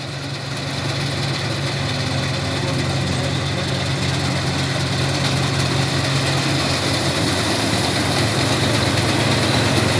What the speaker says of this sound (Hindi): ये है जी गंदम काटने वाली हार्वेस्टर मशीन।